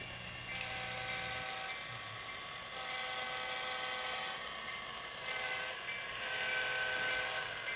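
Model train number 271 running on a layout, a continuous mechanical whine and hum from the small motor rolling along steadily, with a few tonal swells as it moves and no voices.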